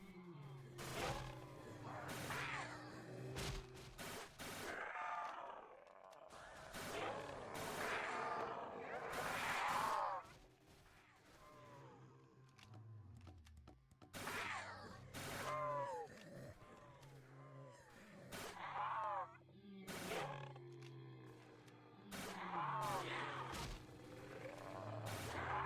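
Gunfire from the Fleeting Moment in Roblox Project Lazarus: sharp repeated shots in bursts throughout, mixed with growling, roaring creatures and a busy layer of game music and effects.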